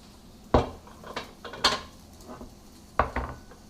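Chicken asparagus spaghetti stirred in a pan, with a handful of clanking utensil strokes against the metal spaced out over soft background noise.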